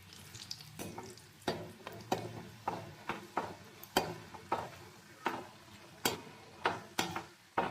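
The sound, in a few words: nimki dough pieces frying in hot oil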